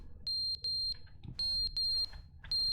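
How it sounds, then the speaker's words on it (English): Electronic beeping alarm in The Stanley Parable video game, sounding in loud, steady sustained bursts of about a quarter second each, in two pairs with a fifth burst starting at the end, over a low background rumble. "What's with the beeping?"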